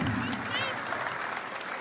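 A crowd at a public gathering claps steadily in a short, continuous burst of applause, with a voice faintly heard over it.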